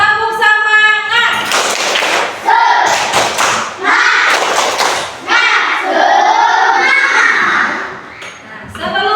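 A primary school class does a rhythmic clapping cheer: bursts of quick clapping and thumps alternate with children chanting and shouting together. A teacher's voice leads in at the start.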